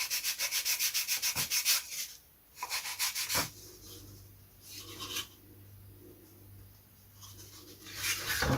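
Rhythmic sanding strokes rasp against a vintage Mercury IV model aircraft part, starting as quick back-and-forth rubs, pausing, then returning in slower, softer passes close by.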